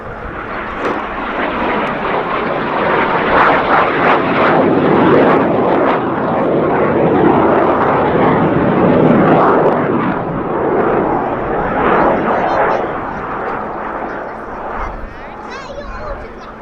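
A military jet aircraft with an uprated Viper engine and underwing weapons hardpoints flies at the RAF Cosford Airshow 2019, a loud sustained roar that swells and fades while a commentator talks over it.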